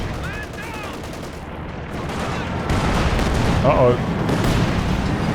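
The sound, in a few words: mortar and gunfire in Company of Heroes 2 video game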